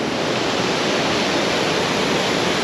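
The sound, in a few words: waterfall, tallest in North America, heard from its foot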